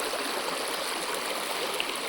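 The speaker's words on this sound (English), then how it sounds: "we're down to just this little trickle" A small trickle of water running over dry granite at a waterfall in late summer, a steady soft hiss of flowing water with no pauses, heard alone without voices.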